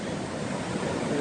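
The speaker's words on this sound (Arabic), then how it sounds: "نحن نتواجد بشاطئ بالخير" Sea waves wash onto a beach at Sidi Bel Khir, a steady broadband surf roar with wind noise on the microphone, loud and continuous throughout the short stretch with no talk.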